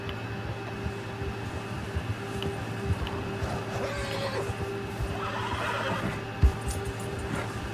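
A horse in the wilderness of Red Dead Redemption 2 lets out a neigh and a few snorts over a steady low hum of game ambience, with faint hoof movement and no talking.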